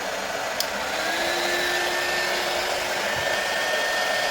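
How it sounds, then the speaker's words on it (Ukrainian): Steady broadband whoosh of a 300-watt hair dryer running continuously on an inverter, fairly loud and close, with a faint whine on top and no talking. "Додам ще один фен на 300 Вт."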